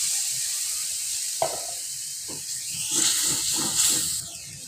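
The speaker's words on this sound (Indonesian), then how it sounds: "kita masukkan sedikit air." Water poured into a pan of sautéing spice paste with bay leaf, lemongrass, galangal and lime leaves for a smoked-fish coconut curry: a sudden splash, then a steady hiss and crackling sizzle that swells and fades.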